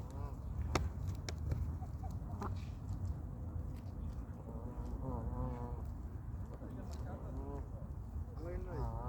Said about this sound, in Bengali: কত শত ময়ূর রাজহাঁস